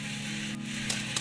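Coffee beans roasting in a pan over a steady fire of burning leaves in rural Vietnam, a soft continuous sizzling crackle with a couple of brief scraping stirs near the end, close and fairly quiet, no voices.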